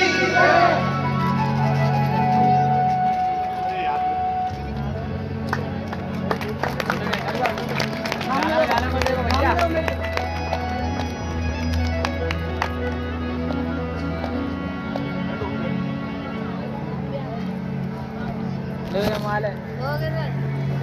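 An audience claps at a religious Bhagavat katha in a village gathering, steady crowd clapping running throughout beneath a voice and rhythmic music.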